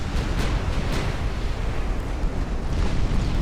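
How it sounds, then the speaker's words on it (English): Secondary explosions tear through destroyers in the naval battle game Ultimate Admiral Dreadnoughts, heard as a dense, continuous rumble of booming blasts with no pauses and no voices. "Secondary explosions on those destroyers in the background, lighting up the smoke."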